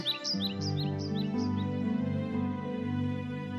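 Injured cartoon bird on the ground chirping in a quick series of high, upward-sliding tweets over a sustained musical background, fairly soft and with no voices.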